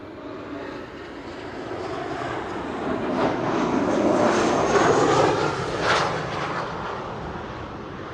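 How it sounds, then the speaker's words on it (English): An Emirates Airbus A380 takes off at Amsterdam Schiphol Airport. Its engines give a loud, broad roar heard from outdoors that builds steadily and peaks midway without fading, and no one talks. "Yeah, so the Emirates A380 is underway."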